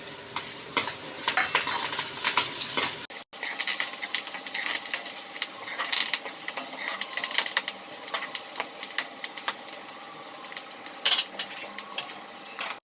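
Chopped onion, halved red chillies and curry leaves sizzle and crackle in hot oil in a pan for sambar, with steady frying hiss and occasional spoon stirring scrapes throughout.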